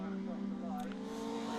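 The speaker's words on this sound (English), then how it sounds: "There goes the Mike Thurley car" A saloon-based race car in an Intermarque Silhouettes race at Snetterton circuit passes with a loud, steady engine drone, heard under continuous commentary.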